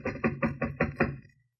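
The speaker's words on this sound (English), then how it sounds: "Guess I'd better knock." Six firm, evenly spaced knocks on a wooden door, close by, then silence.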